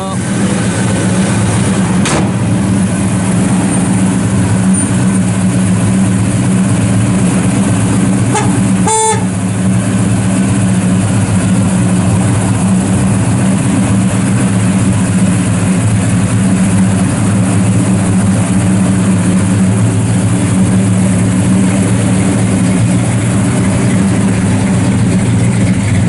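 A 1966 Chevrolet Chevelle SS 396 V8 idles steadily with a deep, low rumble throughout, broken by a brief sharp click or tap partway through.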